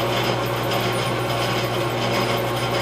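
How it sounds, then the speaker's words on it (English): A hand file rasps across the edge of a newly installed valve guide in a Farmall 450 cylinder head, a steady dense scraping texture over a constant low workshop hum. "You can take the file real easy. Go across your edge."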